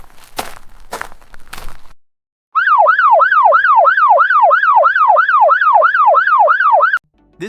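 A generated distant police siren wails in a fast, regular up-and-down cycle, loud and steady for several seconds, preceded by a few soft shuffling footstep-like sounds before cutting off abruptly.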